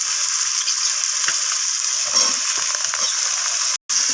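Continuous bright sizzle of carrots, beans and cauliflower frying in a pan, with light stirring clicks and a brief dropout near the end.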